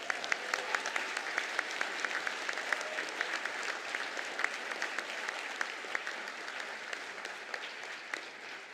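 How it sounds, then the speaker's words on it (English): Steady applause from a graduation ceremony audience cheering new graduates, dense rapid clapping throughout at a moderate, even level with no clear break. "I think that deserves a round of applause."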